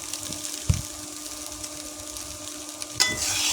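Noodles being stirred in a pan make a soft, steady sizzle and scraping, with a sharper knock near the start and a brighter hiss swelling at the end, heard close with no talk.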